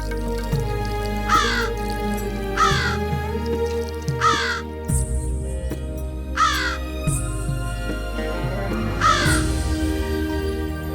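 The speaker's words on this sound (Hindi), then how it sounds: "कौवा छत पे काव काव काव काव करे जा रहा है।" A crow caws repeatedly from a rooftop in loud, clear bursts of rasping calls spaced a second or two apart, heard over a steady musical background with no talk.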